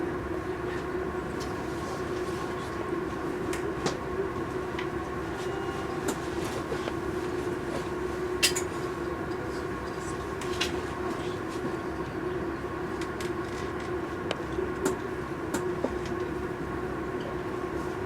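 Steady rumble of a passenger train rolling along the rails in Romania, with a constant low drone and scattered clicks and rattles throughout.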